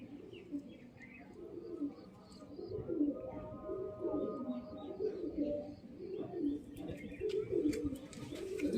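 A group of pigeons coos in soft, repeated throaty rolls at a home loft, steady and close, with faint chirps and rustling around them.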